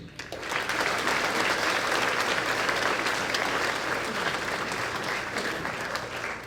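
Sustained applause from the audience at an 8th grade graduation ceremony, a thick, even wash of clapping from many hands lasting the full stretch, with no talking over it.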